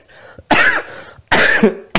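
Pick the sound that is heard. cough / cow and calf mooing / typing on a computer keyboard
cough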